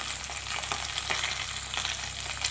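Garlic, green chillies, dry red chillies and curry leaves fry in hot oil as a tempering for pepper rasam. A steady, close sizzle and crackle runs throughout, with light stirring and no voices.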